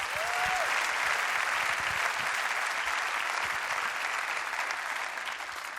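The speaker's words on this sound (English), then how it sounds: "First of all, a round of applause for the win today here in Valencia" Sustained audience applause fills a MotoGP awards ceremony in Valencia, a dense, steady wash of clapping from a large crowd that holds evenly throughout and eases slightly near the end.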